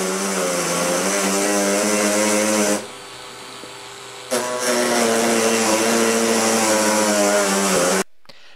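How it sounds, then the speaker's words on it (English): A disc cutter whines loudly and steadily while cutting an N gauge model road, with a tonal buzzing drone that cuts out briefly, restarts, then stops abruptly near the end. "Now please be very careful when using these disc cutters"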